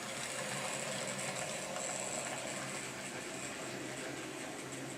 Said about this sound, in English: I'll speed the locomotives up just so we don't waste too much time on this